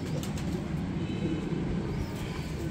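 Soft, low pigeon cooing repeats steadily against a constant background hum, close by and moderately loud.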